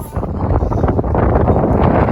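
Loud, gusty wind at Peggy's Cove buffets the microphone continuously, a dense roaring rush with no voices.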